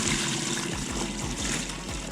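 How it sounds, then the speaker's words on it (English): Water pours steadily into a gold panning pan during a black-sand gold challenge, a continuous splashing trickle with a low rhythmic thumping underneath, close and constant, no voices. "we're gonna pour some water"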